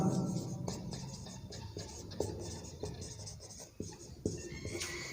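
Pen scratching across paper while working a Class 10 polynomial maths problem, with steady soft strokes and taps continuing throughout at close range, no speech.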